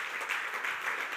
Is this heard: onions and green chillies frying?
no